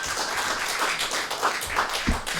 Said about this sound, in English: Everybody a round of applause for Mark Cavers.